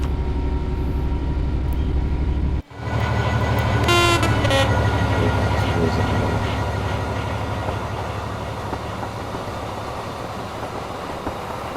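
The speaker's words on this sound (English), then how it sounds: "Come on, brakes off." A DRS Class 66 diesel freight locomotive in a train simulator game sounds a loud horn blast over a steady engine drone and rumble, followed by continuous running noise.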